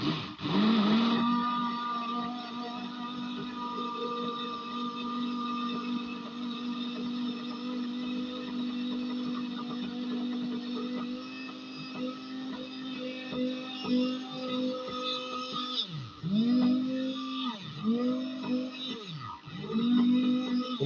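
A hand blender whips a chicken egg yolk into homemade mayonnaise, its loud, steady motor whine holding for most of the time, then dipping in pitch several times near the end as the motor bogs under load.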